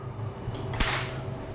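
A baking pan for vegan blueberry doughnuts is handled and flipped over, giving one sharp metallic clank in the middle. Quieter rattles come before it, over low background hum, with no speech.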